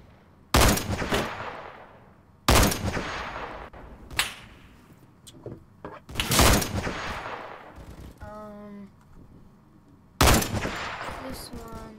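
Revolver gunshots in the Roblox video game: four loud, sharp cracks spaced a couple of seconds apart, each with a fading tail, with a few fainter clicks and a brief electronic tone between them.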